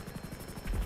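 Helicopter in a multiplayer video game, its rotor thumping in a steady pulsing chop, fairly close and continuous, with a sputtering, faltering quality hinted at by the engine struggling.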